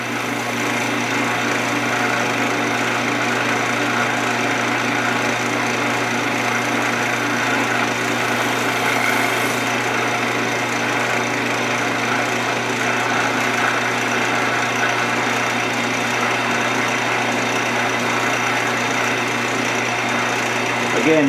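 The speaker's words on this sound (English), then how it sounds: "I'm now going to buff this in high-ish speed, about the same speed, 1500, to get that finish" A wood lathe spins at about 1500 rpm while a willow bowl is buffed with wax, giving a steady, continuous motor whir with a rubbing hum that holds evenly throughout at close range.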